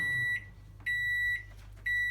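A microwave oven being set gives three long, clear electronic beeps at an even pace, each held for about half a second, close and alone.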